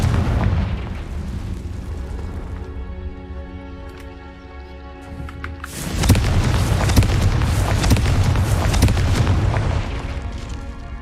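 Confringo, the fiery explosion spell in the video game Hogwarts Legacy, goes off as a sudden loud, broad blast that cuts into tonal background music and leaves a sustained crackling rumble.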